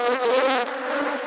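Honey bees swarm loudly at an open hive with a super box, a dense, close, continuous buzzing drone with wavering pitch and no talking.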